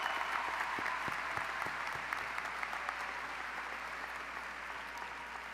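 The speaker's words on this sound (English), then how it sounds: "Please give these students a round of applause." Audience applause at the Blue Springs High School 2024 graduation ceremony for graduating students: steady, dense clapping from a large crowd in a big hall, sustained at an even level throughout without voices.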